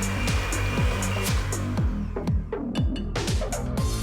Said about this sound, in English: We're going to mix the egg yolk and the vanilla together until it's well combined.